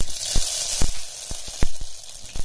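Half a spoon of black mustard seeds sizzle loudly in a spoonful of hot oil in a preheated pan, a constant close hiss punctuated by sharp popping crackles.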